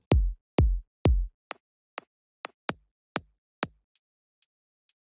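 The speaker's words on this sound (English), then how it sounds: "I created it by layering different kicks and clicks." Individual layers of a layered electronic kick drum for progressive house, played one at a time: three deep booming kicks, then a run of thinner, shorter kicks and sharp high clicks, evenly spaced and dry with no talking.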